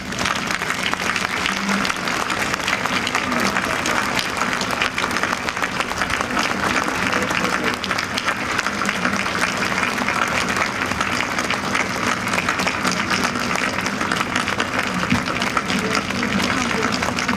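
Sustained applause with cheering from an audience at a Holodomor commemoration in Washington, DC, a dense steady wash of clapping throughout, with voices mixed in.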